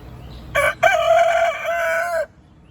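A rooster crows once, close and loud: a short opening note, then a long drawn-out call that cuts off abruptly.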